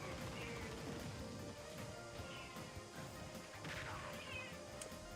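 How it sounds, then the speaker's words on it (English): A cat meows a few times over busy, dense background noise from a Pokémon match between Mewtwo and Lucario, with sharp crashes and clatter from the game running throughout. "Well, hello, Kitty"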